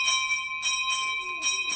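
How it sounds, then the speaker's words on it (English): Bells ring at a women's physical training college, sustained bright tones with repeated strikes pulsing every half second or so, fairly close and steady. "There never was such a place as Leys for bells."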